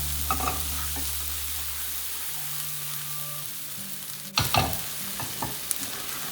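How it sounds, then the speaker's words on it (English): Red chili powder is stirred into a frying paneer makhani gravy, giving a quiet steady sizzle with a low hum, then a sudden louder scrape and a few spoon knocks against the pan, with no speech. "Let's add 1 tablespoon of red chili powder."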